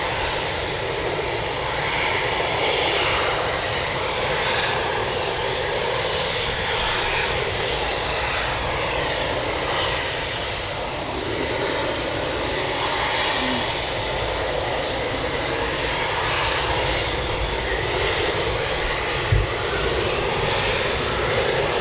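Military aircraft engines roar continuously at RAF Coningsby during the NATO exercise SteadFast Noon 2022, a loud, steady broadband rumble that holds for the whole stretch with no speech.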